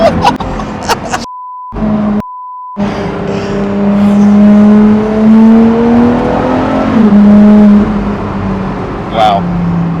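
A supercar engine revs hard and close, its pitch climbing and falling in sustained sweeps, with brief cuts in the sound early on, while people talk excitedly over it.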